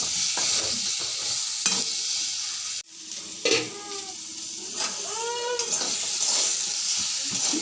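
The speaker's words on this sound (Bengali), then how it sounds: "দেখুন ভাজা ভাজা হয়ে গেছে।" Small Katla (katapona) fish sizzle and spit in hot oil in a pan, with a steady frying hiss broken by clattering stirs and a brief dip partway through.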